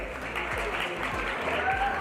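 At an honors ceremony for students selected in competitive exams, a crowd claps in a steady, dense burst to welcome Ravinder, with voices faintly mixed in.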